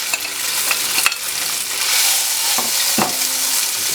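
Cornstarch-dusted tofu sizzles steadily in hot oil up close, broken by a few sharp scraping clicks of a utensil stirring it in the pan. No voices.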